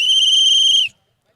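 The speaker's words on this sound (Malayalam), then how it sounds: "രണ്ടാമത്തെ വിസിൽ അടിക്കാൻ പോവാണ്" A referee's whistle sounds one loud, steady, shrill blast at a village Onam tug of war, lasting just under a second before cutting off into silence.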